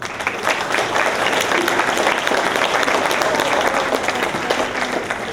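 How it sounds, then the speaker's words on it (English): An audience at an 8th grade graduation ceremony breaks into sustained applause, a thick, steady roar of many hands clapping, with faint crowd voices mixed underneath. "Let's give another round of applause."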